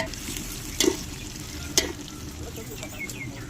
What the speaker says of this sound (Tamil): இது நல்லா ப்ரௌனிஷ் ஆகிற வரைக்கும் கிண்டணும்